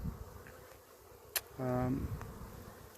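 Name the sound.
honeybees flying into hive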